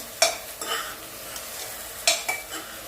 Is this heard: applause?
no